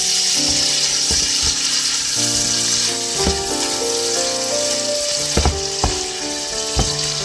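Shrimp hit a hot pan for Mexican potato soup, a close, steady sizzle with a few utensil clinks and knocks, and no talk over it.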